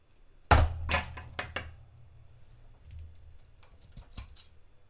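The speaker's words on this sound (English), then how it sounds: "I'm cutting through both layers of the fabric so that the front and the back match on both sides." Scissors cut through two layers of Legend of Zelda print fabric for a sewn drawstring backpack, giving a cluster of crisp snips and thunks near the start and another short burst toward the end, close and fairly quiet.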